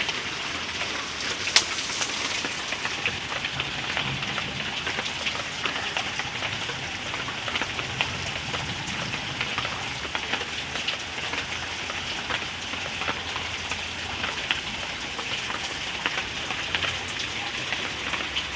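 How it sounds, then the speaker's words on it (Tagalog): Steady summer rain falls continuously on garden plants, a dense even patter with no voices, lasting throughout. "Buti na lang nga umulan today."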